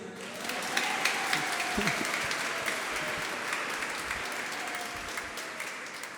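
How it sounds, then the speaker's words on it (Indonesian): Applause from a church congregation after a Sunday Mass, steady dense clapping filling the space throughout, with faint voices beneath. "Tepuk tangan sekali lagi."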